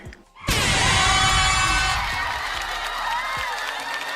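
A live audience erupts into loud cheering, whooping and applause for a podcast guest, the burst peaking at once and then tapering off.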